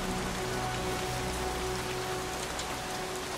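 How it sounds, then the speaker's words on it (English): Steady, dense rain in the video game Heavy Rain Remastered pours down without pause, a continuous hiss of drops hitting surfaces with no voices. "Goddamn rain. Soaking wet."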